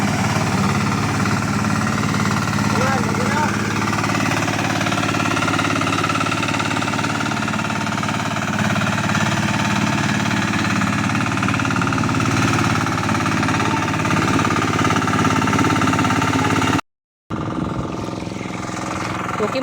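A new farm machine engine chugs loudly and steadily nearby with a rough, knocking rhythm, cutting out briefly near the end before resuming.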